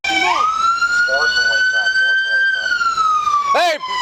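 A Houston police car siren wails loudly and close, holding a steady high tone, while a second siren chirps sharply near the end. Voices shout underneath.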